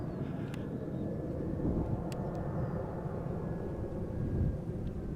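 A Boeing 737 climbs away from Amsterdam Schiphol with a steady, broad jet roar, distant and continuous, swelling slightly toward the end with some wind buffeting.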